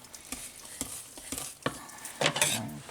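Cornbread muffin batter mixed by hand in a bowl, giving close, wet squelching and slapping strokes in a loose rhythm, a few sharper clinks of the bowl, no voices.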